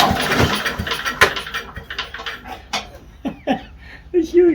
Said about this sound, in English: It's shooting rust out the muffler.